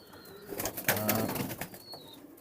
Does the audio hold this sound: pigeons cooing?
yes